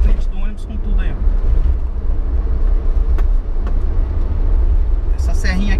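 A Gontijo Marcopolo Paradiso G7 Scania bus climbs a short, steep hill, its engine a steady low drone mixed with road and traffic noise, with people talking over it.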